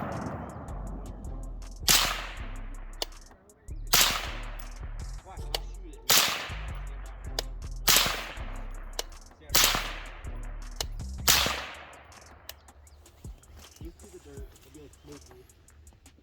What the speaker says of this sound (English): Alright, so we're gonna try the R9 with the same slower ammo.